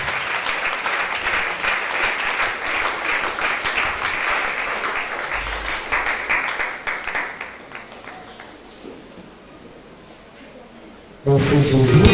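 A church congregation applauds loudly in praise of Jesus, dense clapping holding steady, then thinning and fading into a quieter lull before a sudden loud burst of sound returns at the end.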